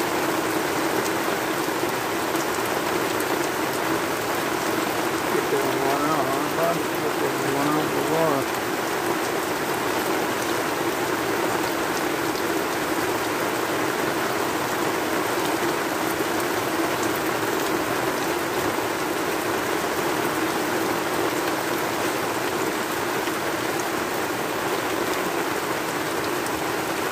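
Heavy storm rain pours down steadily alongside running water, a dense continuous hiss that stays loud and even throughout, with a faint voice briefly murmuring underneath.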